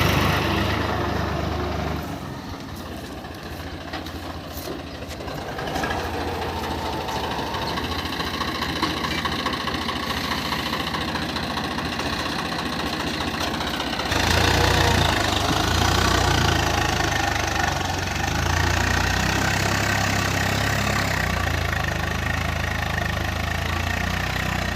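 A Swaraj 855 FE tractor engine runs steadily close by, pulling a seven-bottom plough, with a constant rumbling drone that shifts slightly in load midway and carries on alone without talk.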